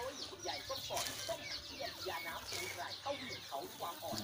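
Free-range native Thai chickens, black-tailed Pradu Hang Dam hens, cluck and chatter in a busy flock at morning feeding on a mixed feed with corn in a jujube orchard, with short calls overlapping at close range.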